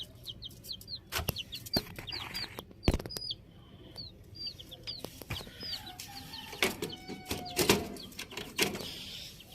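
Chickens, including Aseel fowl, cluck and chirp in short repeated calls amid scattered knocks and wing flutters, a busy coop with several birds nearby.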